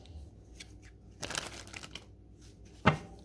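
A tarot deck is shuffled close by, a brief papery riffle burst followed by a few soft card slides and a single sharp tap at the end, faint and intimate.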